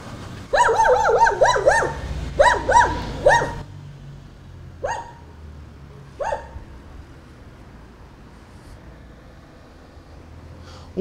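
A dog kept behind bars barks loudly and close in several quick bursts, then gives a few sparser, softer barks before going quiet.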